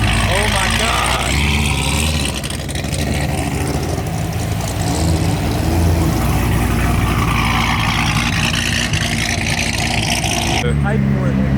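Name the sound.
modified Corvette ZR1 cars pulling up leaving car show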